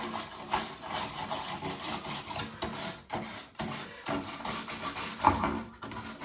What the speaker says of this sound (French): Et je m'en vais nettoyer la carte mère. Avec une brosse, un grand poil bien sûr, pour ne pas arracher de composants.